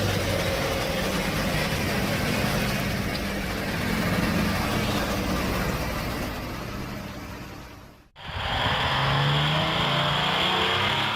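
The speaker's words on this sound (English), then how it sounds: "The roar of the Detroit 12V71 sounds like a living symphony of steel." A heavy-duty truck with a Detroit 12V71 engine roars while it fights through slippery mud, a loud, constant low rumble. It dips briefly near the end and then swells back to full power.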